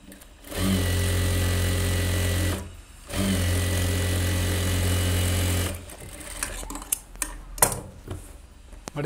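A sewing machine stitches a folded hem on a pattu pavadai in two steady, loud runs of about two seconds each, separated by a short pause, followed by quieter clicks and handling of the fabric.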